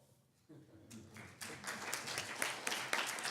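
Audience applause after a biostatistics research talk, starting faint and building into scattered clapping that grows louder and denser over a few seconds.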